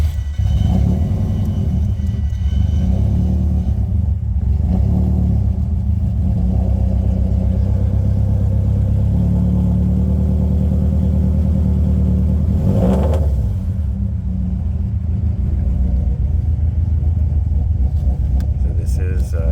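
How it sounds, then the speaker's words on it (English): A cold 505 hp 2005 Subaru STI engine starts and settles into a low, loud, steady warm-up idle with a deep rumble and a brief rev swell near the middle, while someone talks over it. "So the engine is cold, so we're going to fire it up and let it warm up"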